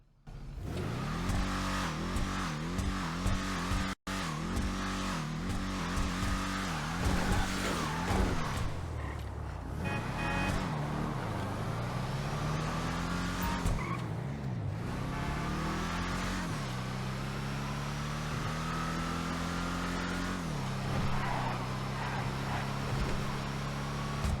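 The Bravado Greenwood car engine in GTA Online revs and accelerates continuously, its pitch climbing and dropping through gear shifts, loud and close throughout.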